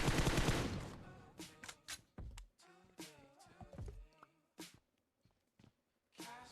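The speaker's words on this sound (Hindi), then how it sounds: "सामने से फायरिंग की साउंड भी आ जाती है।" Gunfire crackles from the front in an online battle-royale shooter, with several sharp bursts and single shots spaced out over a few seconds, moderately distant and fairly quiet.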